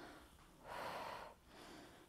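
A deep breath drawn in during a side stretch exercise for pregnancy, a soft rushing inhale that swells for about half a second, then a lighter exhale afterward, close and alone.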